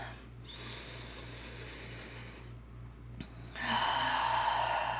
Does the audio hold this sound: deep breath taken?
yes